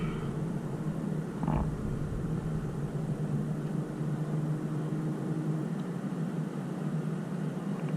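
A 2021 Toyota GR Supra 3.0 engine cruising in sixth gear, a steady low drone with road and cabin rumble throughout, heard from inside the car.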